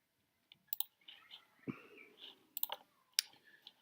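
Sharp computer mouse clicks, a handful spaced irregularly, close and crisp over faint background rustle while modelling a roof in Google SketchUp.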